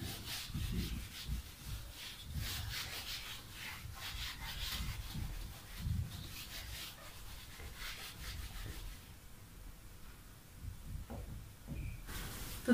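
Writing being rubbed off a board in a chemistry class, heard as repeated scratchy rubbing strokes in an irregular rhythm, fairly close and quiet, with no talking.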